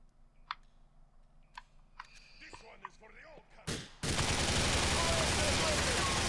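Gunfire in Grand Theft Auto IV, a few sharp isolated shots early on, then a sudden loud sustained burst of noisy fire or explosion that fills the rest, with a voice talking in the background.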